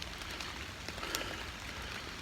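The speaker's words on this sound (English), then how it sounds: "Of course, it's raining." Rain falling in West Virginia woods during muzzleloader deer season, a steady patter of drops on leaves and surfaces, fairly close and continuous, with a few sharper drip ticks.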